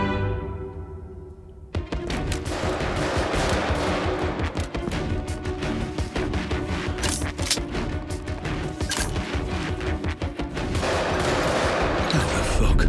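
Heavy sustained gunfire in the Get Even video game bursts in after a quiet opening, with rapid automatic shots and impacts hammering the player from behind, loud and dense throughout.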